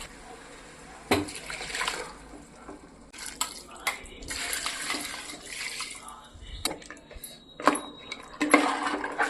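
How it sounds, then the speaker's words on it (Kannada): Water poured into a cooking pot for mutton head sambar, with bursts of splashing and clinking of metal utensils against the pot, moderately close over low kitchen background noise. "ನೀರು ಹಾಕಾಯ್ತು"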